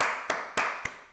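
Three sharp, evenly spaced claps ring out over a backing music track during a rap reaction, each crisp and close.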